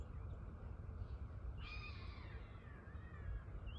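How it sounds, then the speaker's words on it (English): A cat meows once in a drawn-out, wavering call that rises and then trails off, fairly faint and distant over a steady low rumble of background noise. "That was a cat."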